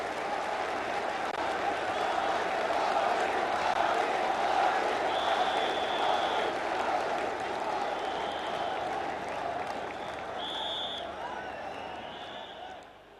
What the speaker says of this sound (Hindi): आपकी तालियों की गड़गड़ाहट माननीय मोदी जी को आमंत्रित करे। बजाइए ताली और बुलाइए माननीय प्रधानमंत्री जी को।